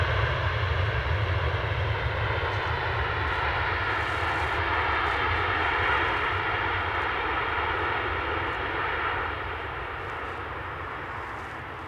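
An EasyJet airliner takes off at Edinburgh Airport in icy, misty weather, its engines a steady, fairly distant roar that holds throughout and eases slightly toward the end, with no talk.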